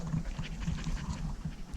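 A dog pants close by in quick, rhythmic breaths, soft and steady, with no voices over it.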